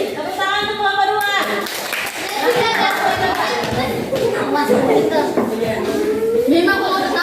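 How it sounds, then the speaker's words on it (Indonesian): Classroom clapping for a student group after a presentation, a burst of hands mixed with children's voices and chatter, with a teacher's voice speaking over it. "Tepuk tangan untuk kelompok 2."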